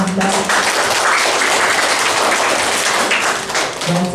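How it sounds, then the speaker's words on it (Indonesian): A church congregation bursts into loud, dense applause for a priest after a Bible course session, sustained clapping filling the room with a few voices mixed in. "Kita beri tepuk tangan"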